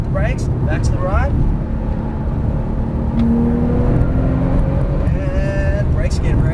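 A Porsche 911 Turbo S is driven hard on a race track, its engine droning loudly with rising and falling pitch through throttle changes and an upshift, while a voice talks over it.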